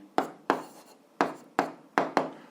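Chalk or a pen writing algebra on a board: six sharp strokes with short scratchy tails, spaced unevenly, close and clear, with no talking.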